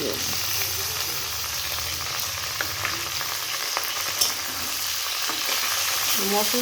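Loud, continuous sizzle of spices frying in a pan, with occasional scrapes and clinks of stirring and a brief voice near the end.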